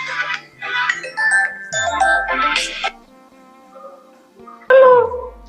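A mobile phone ringtone plays as a short melodic tune. It is loud at first, fades near the middle, then returns briefly near the end, with no talk over it.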